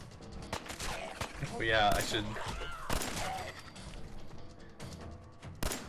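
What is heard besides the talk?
gunfire from video game Fallout 4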